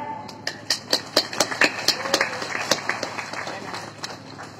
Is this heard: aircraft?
no